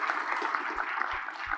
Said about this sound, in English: she deserves a round of applause for that